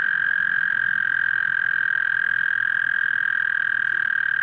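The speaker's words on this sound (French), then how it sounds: "Le crapaud d'Amérique va commencer sa reproduction." An American toad trills in breeding season, one steady, unbroken high musical call holding at a constant pitch, loud and close, with no other voices.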